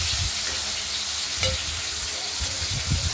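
Potatoes fry in a pan with a steady, dense sizzle that runs for the whole stretch, broken now and then by soft stirring knocks.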